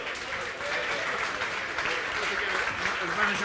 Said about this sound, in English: So you might give a big round of applause to a man who was celebrating his 50th.